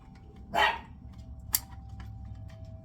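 A single dog bark rings out, slightly distant, followed by a sharp click, over a low steady hum.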